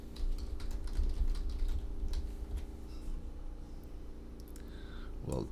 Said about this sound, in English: We'll type in